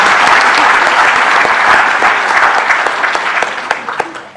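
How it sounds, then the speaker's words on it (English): Crowd applause fills a University of Nairobi hall at a commemoration of Kenya's 60-year diplomatic history: dense, steady clapping from a large audience, loud and sustained before thinning slightly toward the end. "Can we clap for this?"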